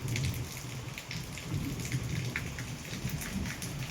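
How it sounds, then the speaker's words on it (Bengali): Steady rain pours down in a continuous hiss and patter, with a low rumble underneath and no voices. "দেখুন বৃষ্টি হয়েই যাচ্ছে"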